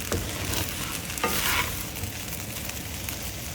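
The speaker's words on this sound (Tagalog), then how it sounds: "Continue to toss the rice until evenly colored and lightly toasted." Fried rice tossed and stir-fried in a hot pan as it toasts, with sesame oil drizzled in, giving a steady close sizzle with scraping and stirring throughout and no voices.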